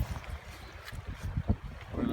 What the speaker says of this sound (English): So we're halfway through the river crossing.